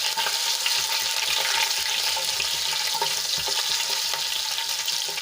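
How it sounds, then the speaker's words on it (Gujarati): Chopped mild green chili sautéing in hot oil in a pan for Rajasthani pakora kadhi, a steady close sizzle with light stirring scrapes and no talk. "હવે આપણે અડધી મિનિટ માટે સાંતળી લઈશું"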